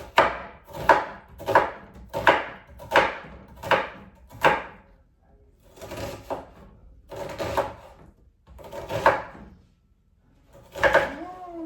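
An onion chopped with a knife on a cutting board, a steady run of firm, close knocks in even rhythm, pausing briefly and then resuming with more spaced strokes.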